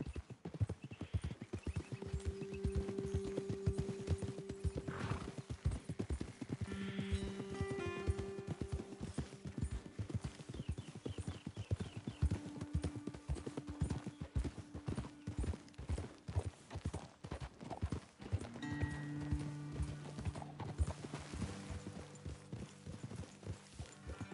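Horses' hooves clip-clop steadily on the ground in a Wild West video game, with the occasional whinny over a low in-game backdrop, continuing rhythmically for over twenty seconds.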